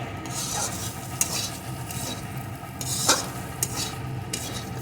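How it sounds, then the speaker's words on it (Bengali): Cauliflower sabji with sugar is stirred in a sizzling pan, with steady frying hiss and a few scrapes and clinks of the spoon against the pan. "সামান্য একটু আবারও একটু নাড়িয়ে কিছুক্ষণ রান্না করব যাতে চিনিটা সম্পূর্ণভাবে মিশে যায়"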